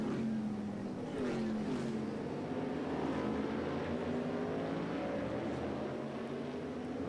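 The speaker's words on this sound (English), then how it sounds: "I know Bonsignor is getting frustrated inside that race car, not able to get up underneath Leah, who comes loose off of the corner." Modified race cars at Daytona in the Whelen Modified Tour roar past in a pack, a loud sustained engine drone with rising and falling pitch as several cars go by.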